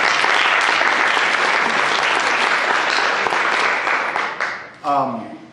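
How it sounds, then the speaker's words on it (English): Full audience applause at an art exhibition talk, loud dense clapping that holds steady and then fades out near the end, followed by a voice starting to speak. "So let's give them all a round of applause for their hard work."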